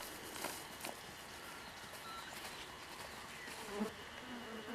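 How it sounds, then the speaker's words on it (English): Budgies at a breakfast outing in Yarra Glen, Australia, make a close, continuous buzzing right against the microphone, with a few soft knocks and faint chirps behind it. "You can hear the budgies. They get on the microphone on this and you can hear them buzzing."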